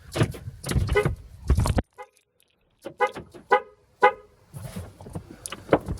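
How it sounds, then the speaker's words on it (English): A car alarm blares in loud, choppy bursts of tones, pausing briefly before starting up again. "That was the car alarm."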